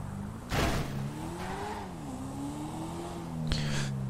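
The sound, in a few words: Corvette engine revving in Grand Theft Auto V video game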